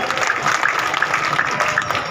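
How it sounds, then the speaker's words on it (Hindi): Audience clapping at a peace committee political gathering, a continuous crowd applause of many hands, steady and fairly loud for a couple of seconds with no voices. "आप कैसे ताली बजा रहे"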